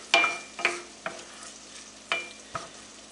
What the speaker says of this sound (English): Onions cooking here a little bit.